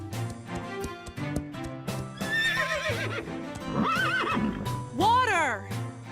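Cartoon horses neighing and whinnying, with several rising and falling calls that peak in one loud whinny near the end, over steady narration and background music.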